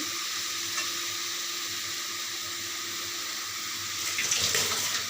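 Garlic sizzles in hot oil in a pan while frying Lote fish, a steady soft crackling hiss with a brief louder burst of spattering near the end; close and moderately quiet, no voices.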